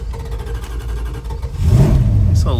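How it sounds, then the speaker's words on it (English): A 1968 Dodge Charger R/T 440 V8 idles with a lumpy, rough rumble, then is revved hard, the engine note swelling loud and rising in pitch before easing back, close to the microphone. "A little bit of extra gas when it starts, but oof, man, it sounds good."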